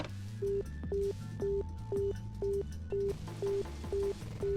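Phone keypad dialed in the video game Virtue's Last Reward: about nine evenly spaced electronic tone beeps over a low droning music bed, each beep short and clear, with no talking.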